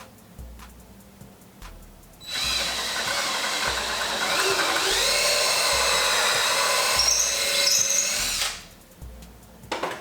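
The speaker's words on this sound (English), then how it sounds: "you'll actually feel the eyelet bolt start to get hot as you thread it in" A power drill drives an eyelet bolt into wood while building garage shelves, a loud whining burst of about six seconds with a rising and falling pitch, starting and stopping cleanly against a quiet background.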